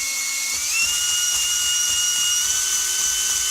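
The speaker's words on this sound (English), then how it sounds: "as I straighten out my drill bit and go up and down" A power drill bores an oil hole into a Polaris XLT snowmobile crankcase, a steady high whine with the pitch stepping up once, continuous and close with no voices.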